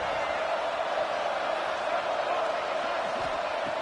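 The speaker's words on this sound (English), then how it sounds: "This crowd is trying to inspire this defense to make a big red zone stop." Football stadium crowd at a Tennessee versus Oregon game roaring steadily to urge the defense toward a red zone stop, a dense, loud, continuous wash of cheering with no breaks.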